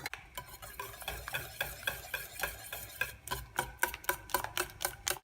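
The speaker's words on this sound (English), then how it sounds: "take a whisk, a hand whisk, and you just want to stir and lightly whisk for 3 to 4 minutes" A hand whisk stirs eggs in a bowl set over simmering water for a chocolate genoise sponge, its quick, steady metallic strokes scraping the bowl in a close, regular rhythm with no talking.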